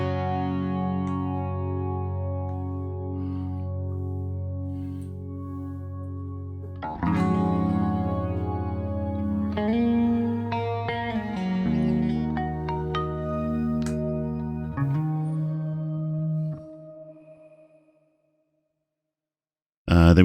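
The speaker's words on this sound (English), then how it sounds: "Shimmer sounds a little bit like this." Shimmer reverb effect on a BOSS GX-100 guitar processor: sustained guitar notes and chords swell into a lush, octave-shimmering wash that rings on and decays into silence before a brief sound at the end.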